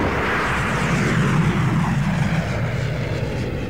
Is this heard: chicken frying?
no